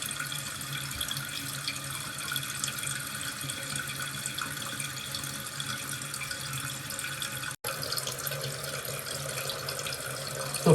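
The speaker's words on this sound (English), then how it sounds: "the refill is coming here, you can see, and it is also filling up the water" A toilet fill valve refilling the tank with water gives a steady hissing rush of flowing water, constant and close from start to end.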